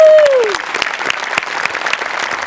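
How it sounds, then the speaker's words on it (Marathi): Audience applause after a stage performance in a Marathi show, steady dense clapping carried over a fading tone, sustained at moderate loudness throughout. "फक्त मी उभं राहून टाळ्या वाजवू शकतो"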